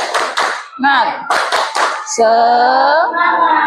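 Rhythmic bursts of group hand clapping, a spirit clap at a religious gathering, come in quick sets of three with voices chanting between and over them, loud and close.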